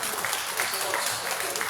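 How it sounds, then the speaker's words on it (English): Applause for senior officers at a Nigerian Army end-of-year dinner party, a steady dense wash of clapping from a large room, fairly loud and continuous for the whole stretch, with voices mixed in underneath. "A round of applause for them, please"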